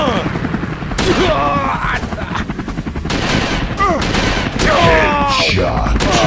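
Sniper and small-arms gunfire in a WW2 sniper war game on Android, loud repeated shots and bursts crowding the whole stretch, with a voice talking over the shooting.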